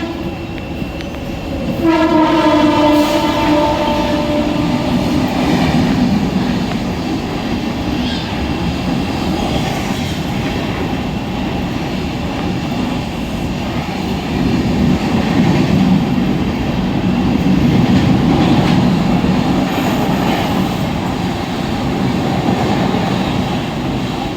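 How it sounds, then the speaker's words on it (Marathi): A Mumbai local train pulls into a platform at Diva junction at night, sounding a loud horn blast early on, followed by a long, steady rumble and clatter of carriages close by, with crowd noise mixed in. "प्लॅटफॉर्म क्रमांक 2 पर आई हुई लोकल 8:38 की मुंबई छत्रपती शिवाजी महाराज टर्मिनस जाने वाली ही मी लोकल है"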